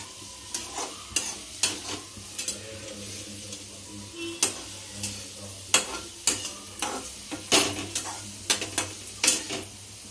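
Green chillies frying in a pan while a spoon stirs them, giving a series of sharp scraping knocks over a steady low sizzle.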